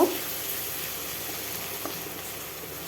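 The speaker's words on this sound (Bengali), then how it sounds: "আবারও একটু ভেজে নেব" Mustard-poppy seed paste with tomato fries in a pan, giving a brief, even hiss of sizzling with a small stirring knock at the start.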